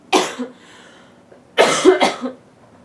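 Two bursts of harsh coughing, close by, separated by a short quiet pause.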